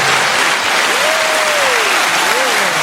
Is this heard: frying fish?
no